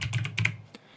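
A quick burst of keyboard typing, several crisp keystrokes in fast succession, followed by a single fainter click.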